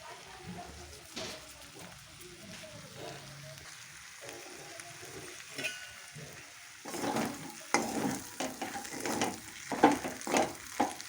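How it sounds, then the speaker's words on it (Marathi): Bitter gourd stir-fried with salt in a pan gives a low sizzle and scraping stirs early on, then louder bursts of frying crackle and spatula strokes in the second half, with no voices. "ह्याला थोडंसं मीठ टाकून परतून देते मी"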